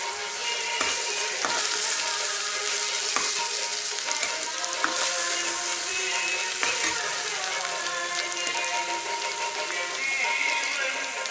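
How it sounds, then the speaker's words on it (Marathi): Rice being stirred into garlic, green chilli, ginger and coriander paste in a frying pan for spicy potato masala rice, with a steady close sizzle and scraping stir strokes running throughout, no voices. "नंतर 2 कप तांदूळ घालून व्यवस्थित मिक्स करून घेणे"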